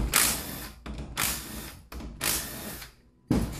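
A power tool spins out the three valve body bolts on a Ford CD4E transmission, with three or four separate whirring bursts broken by short pauses, close and fairly loud.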